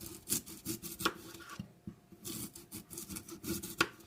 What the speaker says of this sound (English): getting the pears cut up so we can get them in with the blueberries. I'm going to make thin slices